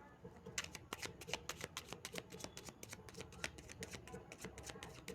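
Tarot cards are shuffled by hand in a quiet room, a soft rapid riffling patter of card edges running steadily for several seconds, with faint speech in the background.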